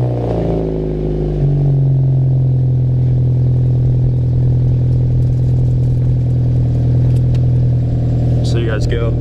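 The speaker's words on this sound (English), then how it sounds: "so I think we'll do a little bit of a cold start real quick" A car's engine cold-starts on a roughly 40-degree day, surging briefly before settling into a steady, loud idle that runs throughout with some wind noise.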